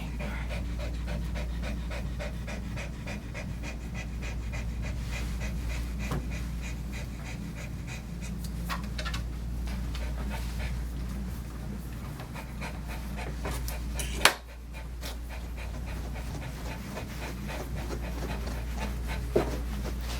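A blind dog pants steadily through a grooming session, close and quiet, with a low constant hum beneath and a single sharp knock partway through.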